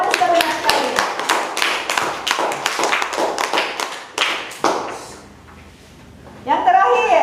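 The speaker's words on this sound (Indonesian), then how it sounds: "Tepuk tangan juga untuk Nadila." Schoolchildren in a primary classroom clap together in a quick, loud burst of applause lasting several seconds, then it drops to near quiet before voices start up again.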